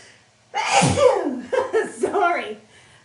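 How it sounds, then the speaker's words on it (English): One loud, close sneeze bursts out, followed by breathy gasps and soft chuckling sounds from the same person. "I'm about to sneeze, y'all."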